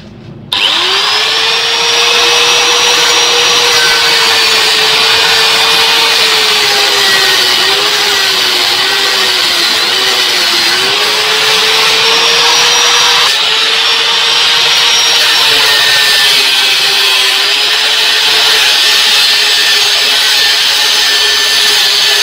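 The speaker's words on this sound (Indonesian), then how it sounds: "Kita akan potong bagian baut yang menonjol." A power tool grinds through a protruding bolt on a DIY steampunk desk lamp, a loud steady high-pitched whine that starts abruptly and holds for over twenty seconds, its pitch sagging slightly as the cut bites, with no talk.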